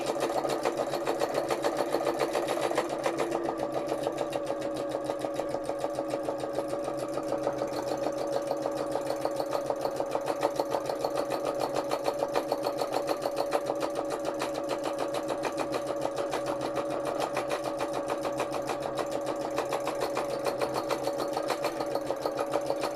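A sewing machine stitches free motion embroidery on hand painted fabric, running continuously at a fast, even rhythm with a steady mechanical hum and rapid needle ticking, close and unbroken throughout.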